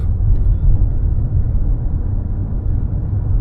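A Kia K5 taxi drives along, heard from inside as a loud, steady low rumble of road and engine noise with no talk.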